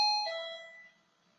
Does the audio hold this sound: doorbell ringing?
yes